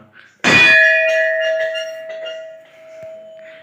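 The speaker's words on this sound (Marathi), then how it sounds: "आणि घंटा पण आहे बरं का मोठा" A large bell at an old stone-built temple is struck once, giving a loud close clang that rings on with a long, slowly fading metallic hum and faint voices in the background.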